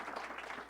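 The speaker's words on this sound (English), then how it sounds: "let's give Anne a warm applause and welcome." Brief burst of warm audience applause welcoming a speaker at an AI in education symposium, soft and continuous, many hands blending into a steady wash.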